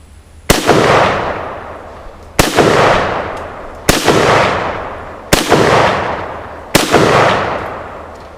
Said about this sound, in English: we're going to put some Full Metal Jacket rounds through it